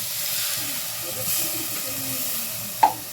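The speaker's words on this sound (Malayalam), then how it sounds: "ഇനി നമുക്ക് ഇതിലേക്ക് കുറച്ച് ചൂടുവെള്ളം ഒഴിക്കാം കേട്ടോ" Hot water hisses and sizzles steadily as it is poured into a hot clay pot of chicken curry, with a low rumbling background and a brief sharp clink near the end.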